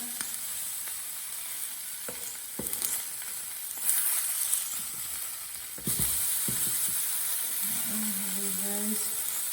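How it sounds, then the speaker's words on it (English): Thin steaks sear in a hot pan with a steady, close sizzle and hiss that jumps louder midway as the meat is turned, with a brief faint voice near the end. "These are thin steaks, so they will literally just take a couple of minutes to cook through."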